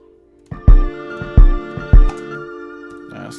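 Kick drum sample in Studio One, three punchy low thumps at an even rhythm sounding over a sustained tonal pad, loud and close.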